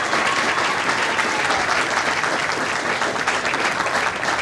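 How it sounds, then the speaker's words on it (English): Sustained applause from a crowd at a military officer training graduation parade, dense and steady clapping at fairly close range throughout. "Let's give a round of applause for all of our award winners."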